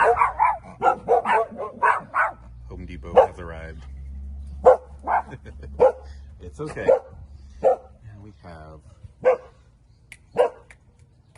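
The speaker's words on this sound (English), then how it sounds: "excuse my dogs." Dogs bark repeatedly in sharp, loud bursts close by outdoors in a small home garden, with a person talking in between the barks.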